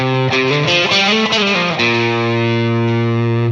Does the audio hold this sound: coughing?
no